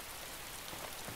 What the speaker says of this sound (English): Just feel that rain very heavy.